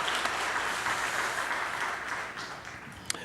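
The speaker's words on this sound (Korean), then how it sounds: "박수 한번 합시다" A church congregation at a Sunday service applauds thanking the choir, a dense, steady wash of clapping filling the hall, with a single sharp clap near the end.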